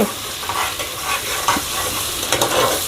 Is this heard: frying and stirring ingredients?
yes